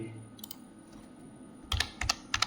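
Fingers type on a computer keyboard while filling in an online form, with a faint early tapping followed by three clear bursts of quick, crisp keystrokes up close.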